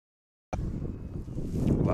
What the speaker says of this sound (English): always a pretty windy day out here